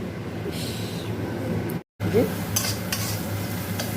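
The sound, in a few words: stirring onions frying in a pan for Maggi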